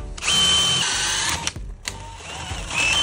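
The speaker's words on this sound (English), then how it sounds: "Now I'll just drill a hole up here" A power drill bores a hole during installation of an electric car charger outlet, with a high whining motor run, a brief pause, then a second burst and a third starting, loud and close without talk.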